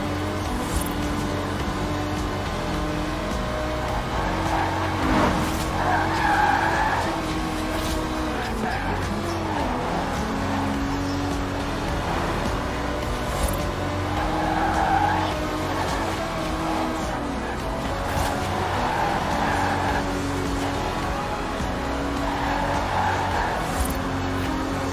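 A 1960s Aston Martin DB5 Vantage grand tourer with side-draft carburetors races in Forza Horizon 4, its engine droning steadily while tires squeal in repeated skids through corners, with a voice talking over the top.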